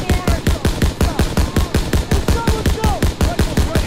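Steady automatic gunfire in a Call of Duty WW2 campaign fight at a factory, evenly spaced loud shots pounding in a regular rhythm, with faint shouts in the background.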